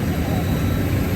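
An IndiGo Airlines airplane's engines give a steady, loud, broad roar at Delhi airport with no breaks.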